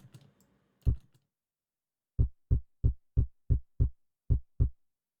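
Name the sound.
synthesized kick drum with wave shaper and saturation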